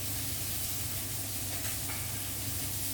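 Raw chicken pieces sizzle steadily in a hot pan while frying for an Ethiopian-style creamy pink macaroni dish, a constant broadband hiss with no talking.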